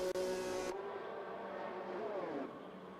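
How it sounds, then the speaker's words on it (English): A race car in a racing video game eases into the pit lane at the Chinese circuit, its engine a steady droning tone that drops in pitch as it slows, continuous and fairly close under faint background. "Puts the car in the pit lane nice and easy here."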